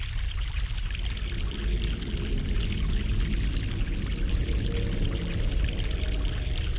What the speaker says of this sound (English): Fresh mountain water.